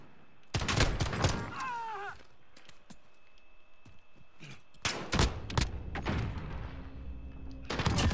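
A shooter video game fires sharp, loud gunshots in quick clusters, some crackling like bursts of fire, with gaps between volleys and a brief electronic chirp early on; voices may be present faintly.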